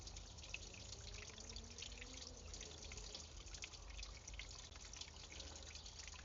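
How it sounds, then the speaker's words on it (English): Steady rush of dirty water spilling out of a car heater hose while flushing the heater core, a continuous splashing flow with dripping texture, no talking. "You see how dirty that water is coming out from there."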